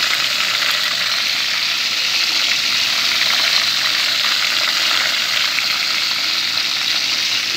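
Chicken wings sizzle and crackle in hot oil in a pan, a steady close, dense frying hiss that runs unbroken with no talking.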